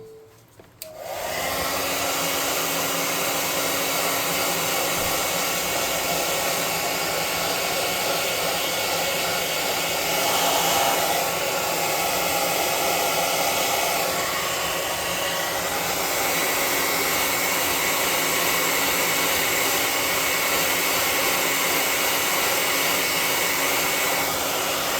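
An air gun blows a steady, loud, close rush of air onto painted cardboard terrain walls to dry them, starting abruptly and holding almost unchanged for the whole stretch, with no talking.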